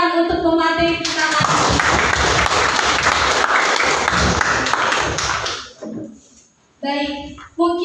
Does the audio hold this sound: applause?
yes